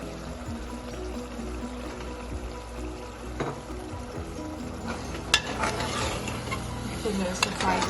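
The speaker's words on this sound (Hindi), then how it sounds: "और अब मैं इसमें गोश्त डाल दूंगी।" Mutton frying in a pot while being stirred, a continuous low sizzle with scraping stirs and a few sharp clinks of the spoon against the pot.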